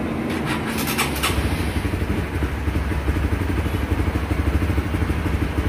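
A motorcycle engine is started after the ignition is switched on during a battery voltmeter installation. A brief starter whir gives way to a steady, close idling putter that continues alone.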